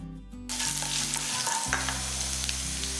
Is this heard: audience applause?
no